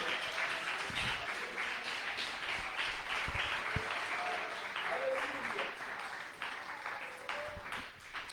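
A church congregation applauds during an evening sermon, a sustained wash of many hands clapping at moderate distance that slowly tapers off.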